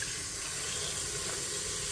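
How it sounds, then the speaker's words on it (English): Water runs steadily into a Blendtec blender jar with soap for cleaning, a continuous close rushing and splashing of tap water with no talking. "I'm gonna put a soap and water in here"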